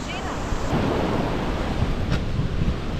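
Strong ocean waves breaking along a coastal dirt road on an island in Brazil, a steady close roar of surf with wind buffeting the microphone throughout.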